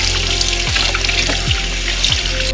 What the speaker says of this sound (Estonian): Ja nüüd kala ilusti peseb puhta veega, külma veega puhti.